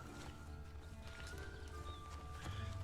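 Horse hooves clip-clop at a steady trot with a brief neigh in The Witcher 3 video game, faint and continuous over low in-game ambience.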